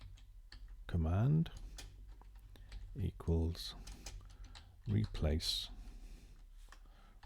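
Rapid clicking of computer keyboard keys comes in short bursts of taps, close and fairly faint, under a man's intermittent speech.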